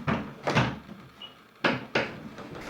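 A sliding bifold barn door catches on the architrave, giving several sharp knocks and bumps separated by short pauses, close and fairly loud.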